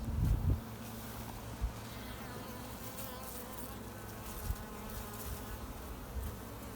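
Dense, steady buzzing of many honeybees crowded inside a hive box, a close continuous drone with a few soft knocks and bumps against the wood.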